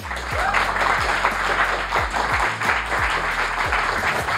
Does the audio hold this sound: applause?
yes